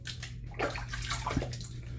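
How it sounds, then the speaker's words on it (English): Hands being rinsed under a running tap, a continuous close splash of water with soft sloshing shifts as the hands move, with no talk. "let me rinse my hands so they're not all slick"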